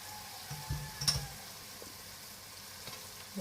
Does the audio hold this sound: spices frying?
yes